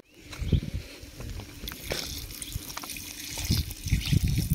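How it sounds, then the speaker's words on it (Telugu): Palm toddy trickles and splashes as it is poured into chicken cooking in a pot over a village fire, a steady liquid pour with a few louder splashes throughout. "ఇట్లా కళ్ళు పోసుకొని"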